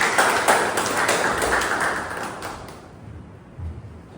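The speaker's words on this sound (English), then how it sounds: "Let's have a big round of applause for Toastmaster Sumit." Applause from the audience at a Toastmasters club meeting, a fairly loud burst of clapping that carries for a few seconds, then fades and stops.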